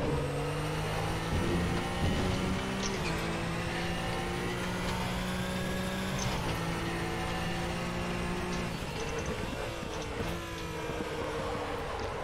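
A Joest Porsche 962 Group C race car in RaceRoom howls through the gears, its engine note climbing steadily with sharp shifts and throttle lifts around the three, six and ten second marks, loud and close with no voices.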